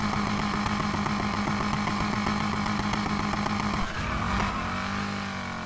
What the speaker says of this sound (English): So first gear, rev it all the way up.